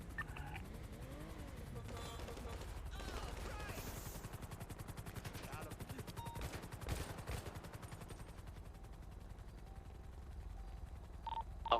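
Gunfire in a GTA V NoPixel roleplay crackles as bursts of rapid shots under a busy game soundscape, with voices talking over the scene.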